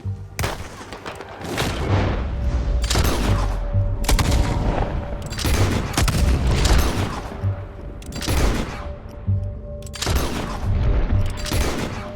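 Heavy gunfire in a Red Dead Redemption 2 firefight, with repeated loud shots and booming blasts overlapping across a dense, continuous battle din, some cracks close and sharp, others rolling farther off.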